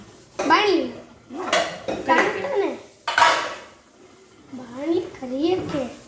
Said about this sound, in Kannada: ಒಂದು ಬಾಣಲಿ ತೊಗೊಳ್ಳೋದು.